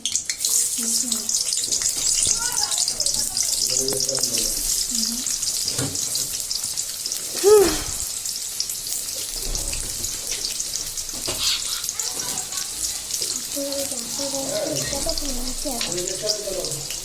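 Onions fry with spices in a pan, giving a continuous bright sizzle with a louder hiss near the middle, while a voice talks at intervals over it.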